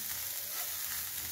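Vegetables sizzle in a hot pan as they are half-fried for mixed rice, a steady, dense hiss that continues without a break, close by and moderately loud, with no voices.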